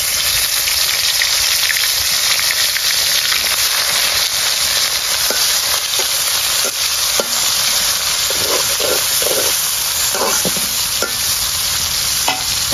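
Chopped onion hits hot oil already seasoned with black cumin, dried red chilies and bay leaves, sizzling and crackling steadily at close range, with occasional scraping stirs and no talking.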